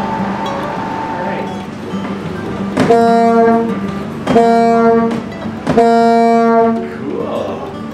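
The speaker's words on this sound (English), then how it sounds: "This is a very cool manual box foghorn." A manual box foghorn at Point Prim Lighthouse sounds three loud, sustained harmonic blasts of about a second each, with short gaps between them, close by and alone, over faint background room noise.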